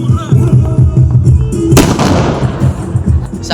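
Diwali fireworks and firecrackers burst loudly nearby in a sharp crackling flurry, with people talking and calling out around them.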